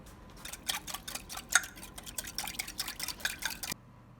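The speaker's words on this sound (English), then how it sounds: "Then you have to mix that well." Water and olive oil being mixed for matzah dough, with a quick run of clinking, tapping stirs against a bowl at a steady rhythm, close and fairly loud, ending abruptly.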